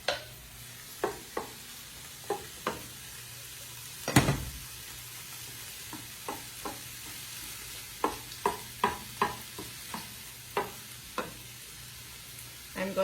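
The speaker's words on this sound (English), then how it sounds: "I'm going to take my rice and I'm going to dump that in" Cooked rice is dumped into a hot pan and stirred, a soft sizzle underneath sharp scraping clicks of the utensil, one heavier thud, then a run of evenly spaced taps and scrapes.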